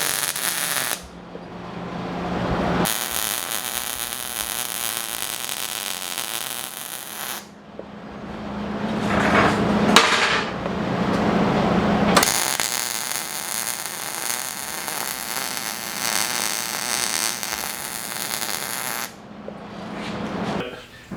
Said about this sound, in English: I'm going to weld the foot on this little guy